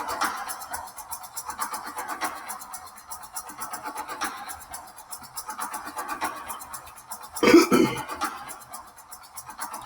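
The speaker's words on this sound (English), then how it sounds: "Let me clear my throat." Faint murmuring noise, then a short, loud burst of throat clearing near the end, close to the listener.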